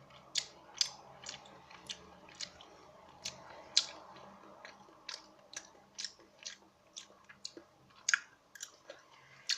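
Someone chewing seafood squid up close, with crisp repeated wet clicks and squishes in a steady rhythm, quiet and alone with no speech.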